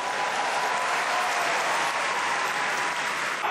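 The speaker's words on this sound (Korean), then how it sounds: "절로 함성과 박수가 터져나오는데요." A crowd of about eight thousand at a church celebration event in Chiang Mai bursts into dense, sustained applause and cheering, even and loud throughout.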